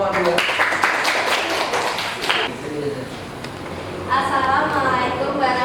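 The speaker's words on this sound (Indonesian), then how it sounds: "Maju tepuk tangan buat kelompok 2." A school class claps for a group walking up to present. Brisk, uneven clapping rises under a teacher's voice, eases off, then returns as a second burst.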